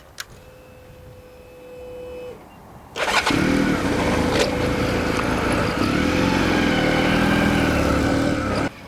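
A motorcycle engine catches and then runs steadily and loudly while the bike is ridden around a circle for cornering and braking practice, one hand off the bars.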